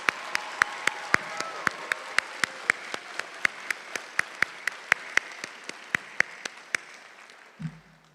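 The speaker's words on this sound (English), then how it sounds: "Let's have a round of applause for the family and friends of the graduates." Audience applause at a commencement ceremony for the 2020 and 2021 graduating classes, with sharp, regular claps ringing out over a bed of steady clapping, continuing for about seven seconds before dying away, followed by a brief low thump.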